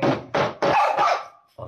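A dog barks several times in quick, loud bursts close by, with short pauses between barks and a final bark after a brief gap.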